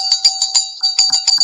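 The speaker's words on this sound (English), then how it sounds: "if I could just start off by ringing my bell" A small handheld bell rings rapidly and steadily in a quick run of bright, overlapping strikes, close and clear with no voices. It is rung at the start of a live spiritual session to clear stagnant energy.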